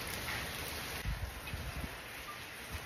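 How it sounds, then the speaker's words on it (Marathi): Steady rain from storm Debby falls in a windy evening downpour, a soft continuous patter with a few heavier drips, no voices. "सकाळी जो पाऊस चालू झाला आहे तो आता संध्याकाळचे 7 वाजले तरी पाऊस आहेच बऱ्यापैकी."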